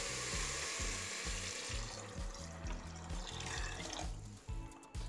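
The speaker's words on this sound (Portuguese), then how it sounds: "E vou adicionar água até cobrir." Water poured from a tap or jug into a cooking pot holding beans and a bay leaf, a steady close-up splashing and gurgling stream that continues throughout with no speech.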